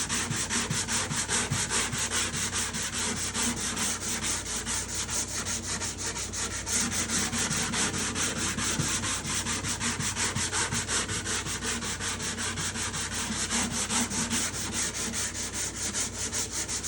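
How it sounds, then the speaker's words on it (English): Steady back-and-forth rubbing of sandpaper on a wooden instrument top, a continuous close rasping with even strokes and no voices. "it takes a lot of sanding to make a small difference"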